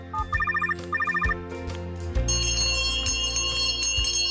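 A telephone bell rings in two quick trilling bursts, close and clear, then gives way to swelling music with low thumps and bright tones.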